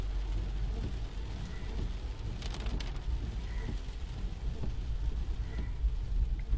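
Steady heavy rain pours during a thunderstorm, a dense continuous hiss with low rumbling underneath and a few faint sharper patters, sustained and fairly loud throughout.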